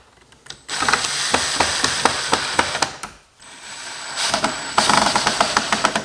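A power screwdriver whirs in repeated ratcheting bursts while driving the two screws that refit a Toyota Tacoma side mirror marker light, with a brief pause between the two screws.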